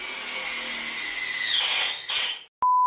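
A DeWalt 809 18V impact driver drives a self-drilling steel screw into thick 2mm steel plate, one loud continuous whining run lasting about two and a half seconds before it stops abruptly, with no talking.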